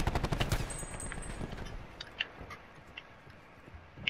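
Video game gunfire starts as a rapid burst of shots and gives way to sparse, scattered pops at a distance, quiet overall.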